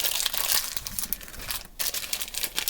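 A plastic bag holding painted Mr. Potato Head pieces crinkles and rustles continuously up close as it is handled and opened, loud and busy with a brief pause, no talking.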